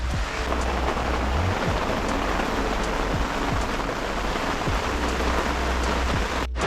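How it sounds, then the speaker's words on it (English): Heavy autumn rain pounding steadily on a nearby surface at a fishing lake, a dense continuous hiss with scattered louder drops, unbroken and loud throughout. "This is mental rain."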